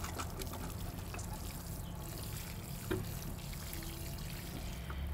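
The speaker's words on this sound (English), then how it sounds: "And then I'm going to water it in." Water poured onto the soil of a potted grape tomato plant, a steady, soft trickle and splash that runs evenly throughout with no voices.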